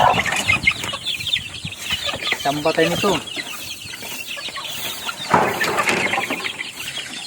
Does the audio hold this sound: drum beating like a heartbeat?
no